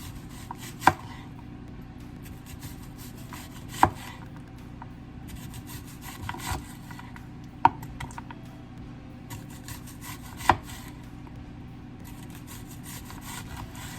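Onions are chopped with a knife while a cottage pie is prepared: slow, isolated knife knocks land on a cutting board every few seconds, with faint rubbing and rustling in between and no talk.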